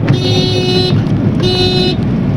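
A vehicle approaching on a dirt road, with two long blaring horn blasts over a steady engine rumble, loud and close.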